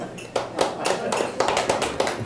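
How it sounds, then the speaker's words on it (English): Audience clapping for the married people in a stand-up comedy crowd: scattered, uneven claps close by, moderately loud and irregular, with a murmur of voices underneath. "Married people, let's hear applause."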